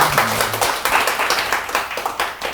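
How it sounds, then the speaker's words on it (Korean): A small group at a business talk claps to close the session, a brief scatter of close hand claps with uneven rhythm, fading toward the end. "박수로 마무리하겠습니다"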